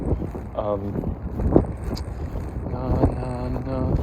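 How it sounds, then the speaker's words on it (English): Steady wind buffets the microphone with low rumbling gusts, while a person talks over the noise throughout. "It's so windy over here."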